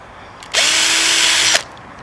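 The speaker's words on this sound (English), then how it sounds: "So I drilled two little fine millimeter holes" A small power drill bores a fine hole into plastic model railway sleepers during gauge-widening trackwork, one steady, close, high-pitched whine lasting about a second with a sharp start and stop, alone in a quiet room.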